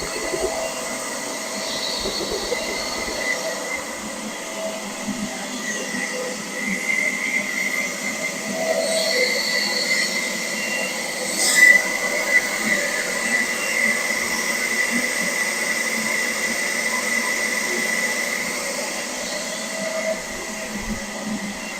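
Workprox 20V cordless leaf blower running at maximum speed indoors, a steady loud whoosh with a constant whine that holds for over twenty seconds, plus one brief louder surge midway.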